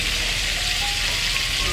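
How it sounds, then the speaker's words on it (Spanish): Crabs sautéing in oil in a pan for paella, a steady close sizzle and hiss running throughout with no talk. "vamos a sofreír las jaibas"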